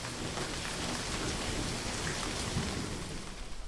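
Steady, dense rain falls continuously, a loud, even wash of drops with no voices.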